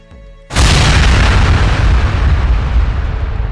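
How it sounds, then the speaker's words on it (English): A massive missile explosion hits a military convoy, opening with a sudden deep boom that turns into a sustained, loud roaring blast rumble. "Without warning, the first missile hits. It lands directly in the middle of the convoy. The explosion is massive."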